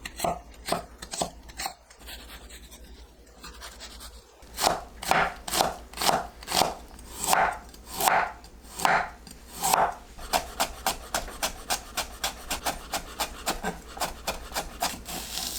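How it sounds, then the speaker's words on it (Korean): A knife minces onion and carrot on a wooden cutting board, first in quick irregular taps, then in louder rhythmic chops settling into a fast even patter, close and alone. "양파와 당근을 다져서 준비합니다."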